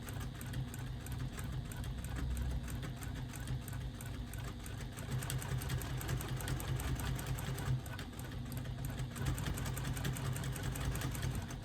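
A sewing machine stitches quilting through foam in a steady, rapid mechanical chatter that runs continuously near at hand, slightly louder in the second half.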